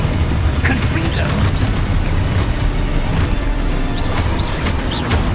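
A Confringo fire spell explodes during combat in Hogwarts Legacy. A dense, continuous roar of booming blasts and crackling effects plays with a voice shouting over it.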